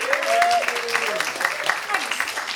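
An audience claps for Harriet at a Listening Room live performance, a steady wash of applause with voices talking over it.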